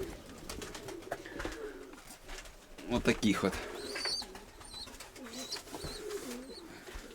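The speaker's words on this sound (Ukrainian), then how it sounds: "у мене зараз два, двоє голубенят тут" Young pigeon chicks cooing and peeping softly in a loft, faint calls scattered through with someone talking quietly over them.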